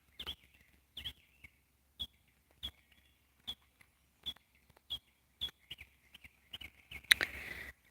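A single bird outdoors sings a short chirping phrase repeated at roughly regular intervals, about a dozen times, faint and somewhat distant in quiet surroundings, ending with a brief louder rustling burst.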